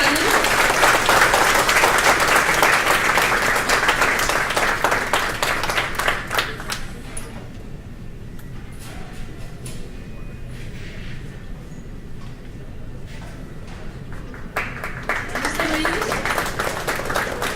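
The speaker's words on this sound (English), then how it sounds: "a huge round of applause for our panel" An audience at a live UX panel event applauds, loud sustained clapping that dips to a quieter patter midway, then swells again toward the end.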